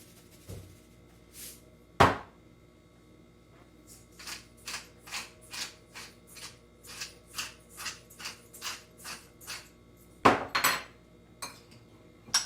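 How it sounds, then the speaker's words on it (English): Garbanzo bean salad with sun-dried tomatoes, cranberries and greens being tossed in a bowl, a close series of quick clinking and scraping taps of utensils against the dish, with a few sharper knocks and quiet gaps between. "And you just mix it well"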